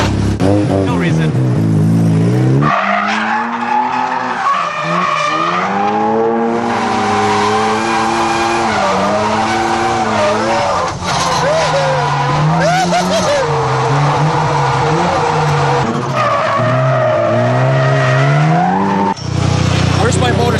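A drifting car's engine revs hard and rises and falls in pitch, with squealing tires, continuous and close, while people talk over it.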